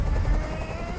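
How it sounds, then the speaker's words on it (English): A helicopter hovering overhead in the game Detroit: Become Human gives a loud, low, continuous rotor thumping and droning that fills the moment without a break. "I can't stand that noise anymore. Tell that helicopter to get out of here."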